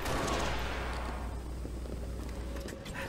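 Gunfire in the Halo video game: a dense, continuous rattle of shots and blasts at steady loudness for about three seconds, with no talking.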